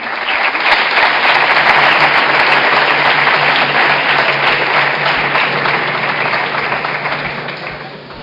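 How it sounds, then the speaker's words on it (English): Dense, sustained audience applause greets the guests at a conversation event on crowdfunding, steady and loud throughout before easing slightly near the end, with no speech over it. "So please welcome them with a big applause."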